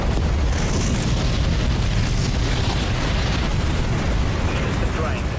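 Plasma broadside cannons fire in the Dreadnought space combat game, making a continuous heavy rumbling blast with a dense low roar that stays loud for the whole stretch, with voices talking over it.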